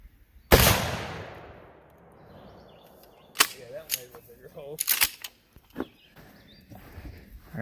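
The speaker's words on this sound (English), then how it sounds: "Shoot some of this to 12 gauge, see how it does." A 12-gauge shotgun fires a single loud blast of 3-inch double-aught buckshot through house walls, followed by sharp impact and clatter sounds and brief talk in the background.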